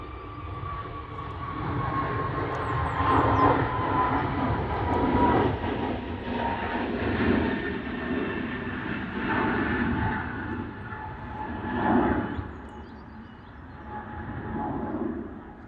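An EasyJet airliner rumbles past at Manchester Airport on a windy early morning, a broad continuous engine roar swelling and fading over about fifteen seconds with steady wind noise and no talking.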